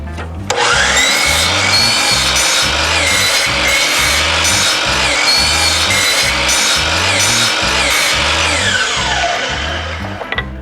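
A power saw cuts small pine 1x boards into short pieces, its loud, steady whine running almost without a break and carrying a rhythmic rasping grind as each cut is made.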